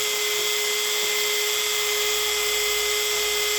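A Dremel rotary tool grinding a chainsaw chain gives a loud, steady high-pitched whine with a constant tone and no pauses, heard alone and up close.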